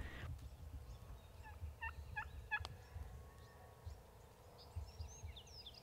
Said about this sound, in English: these turkeys in the background are still gobbling